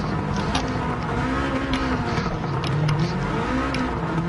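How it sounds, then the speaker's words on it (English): A car with anti-lag idles in the video game Gran Turismo 7, giving a steady low engine hum with faint shifting tones and scattered sharp crackles and pops over the top, close and continuous. "I love the sound of this car fucking idle because I got anti-lag. It just sits there cackling the whole time."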